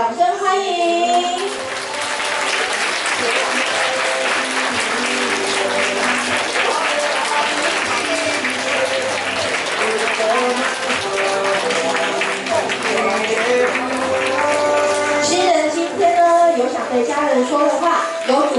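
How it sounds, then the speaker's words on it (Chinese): Wedding guests applauding the couple's entrance, sustained loud clapping from the crowd over music for most of the stretch. "让我们一起用比刚刚大十倍的掌声，欢迎今天的主角韩颖还有婉俊幸福登场，掌声欢迎"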